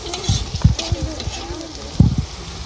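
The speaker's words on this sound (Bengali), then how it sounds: "পেঁয়াজ ভাজি" Onions fry in a pan over a fire at a village picnic, with a constant close sizzle broken by repeated scraping stirs of a spatula against the pan.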